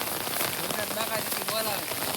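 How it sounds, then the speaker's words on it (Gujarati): Heavy rain pours down in a dense, steady hiss of drops striking surfaces, with a faint voice briefly audible beneath the downpour. "વરસાદ કઈ ઘટે જ નહીં. આ કમાટી ચાલુ જ છે."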